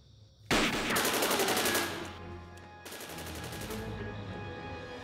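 Bursts of machine gun fire in a film scene, a sudden loud rapid volley that fades, then a second sustained burst after a brief pause, close and dominant with no talk.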